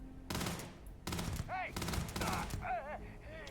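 Gunfire during combat in Starfield comes as loud, sharp bursts of shots broken by short pauses, mixed with higher whining tones and some talking underneath.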